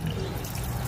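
Fuel and sludge flush out of the fuel pump on a Massey Ferguson tractor, a steady close pouring and trickling of liquid that runs without a break.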